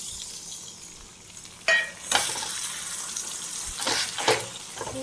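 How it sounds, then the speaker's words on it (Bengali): Water poured into a pan of simmering poppy seed paste (posto) while cooking, giving a few sharp splashing sizzles over a low steady frying hiss. "এই ধোয়া জলটা দিয়ে দেবো"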